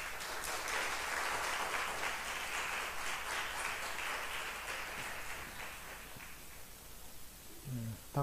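Church congregation in Busan applauding to welcome a visiting preacher, a steady crowd clapping that holds for several seconds and slowly thins toward the end.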